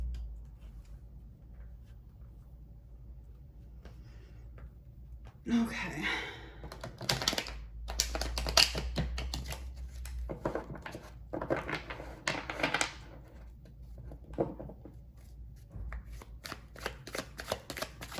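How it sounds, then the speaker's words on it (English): A tarot deck is shuffled in bursts of crisp riffling and card slaps, close and clear, separated by quiet pauses, with a brief spoken word. "I'm gonna give this a good shuffle."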